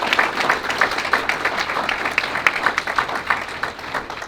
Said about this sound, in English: Let's give Peggy a round of applause.